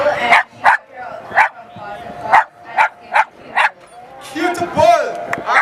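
A poodle at a dog expo barks in a run of sharp, rhythmic yips, about eight close, loud barks spaced evenly, ending in a drawn-out whining sound, with a crowd murmuring faintly behind.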